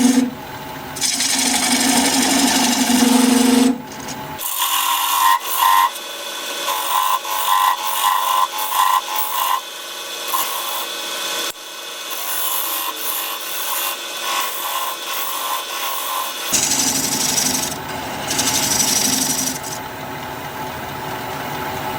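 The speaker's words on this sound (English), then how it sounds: "We'll go with a tenon, and for that I'm going to use a 1/2" bowl gouge." Olive wood bowl spinning on a lathe while a 1/2-inch bowl gouge cuts a tenon, giving steady close scraping and rasping with bursts of harsher high chatter between quieter cutting passes.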